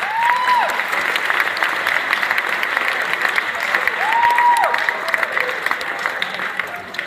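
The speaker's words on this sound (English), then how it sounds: "let's give them another round of applause" Audience applauding a school concert band at a middle school concert, a steady wash of clapping across the whole stretch with a couple of brief whistles or cheers rising above it.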